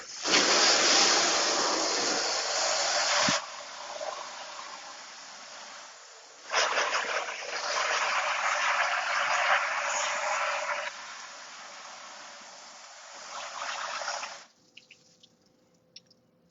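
Water pours and splashes steadily while an aquarium is filled, in long loud bursts with short pauses between them, ending in a few faint drips.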